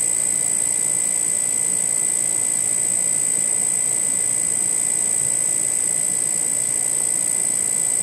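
High-voltage electrostatic-powered magnetic levitation motor spinning at high RPM, giving a constant loud airy hiss with a steady high-pitched whine. It holds unchanged throughout with no talking.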